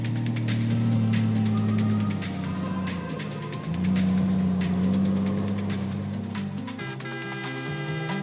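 Dakar rally trucks, cars and bikes run through soft desert dunes in the 2024 event, a loud, steady engine drone with rising and falling revs and a break around the middle, with no talk.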